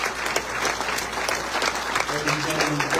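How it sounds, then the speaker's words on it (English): An audience applauds Reverend Spencer at a talk on the Islamist agenda: dense, sustained clapping from a crowd, steady and fairly close throughout, with a voice talking over it. "More applause for Reverend Spencer."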